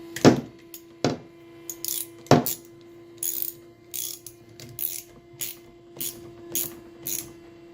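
A wrench tightens a nut on a trolling motor, giving a series of sharp metallic ratchet clicks, a few spaced strokes and then quicker repeated clicking, close and clear.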